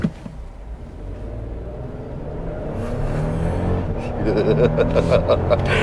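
A 2022 Toyota Tundra SR5 pickup's twin-turbo V6 revs up and builds at full throttle, roaring louder as the truck accelerates hard, with rising tones toward the end.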